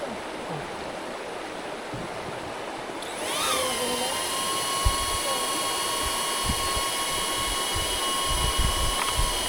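A DJI Neo 2 drone hovers with a faulty second battery bought as a spare, its steady high-pitched whine and shifting tones rising abruptly a few seconds in and holding close over outdoor camping ambience.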